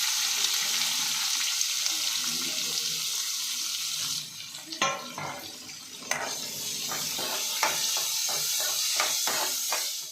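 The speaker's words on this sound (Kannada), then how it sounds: "ಈರುಳ್ಳಿ ಎಲ್ಲ ಸ್ವಲ್ಪ ಫ್ರೈ ಆಗಿದೆ" Chopped onions frying in a pan with urad dal and chana dal, giving a loud continuous hiss that eases midway into quieter sizzling broken by several sharp utensil taps and scrapes.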